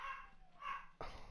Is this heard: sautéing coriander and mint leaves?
no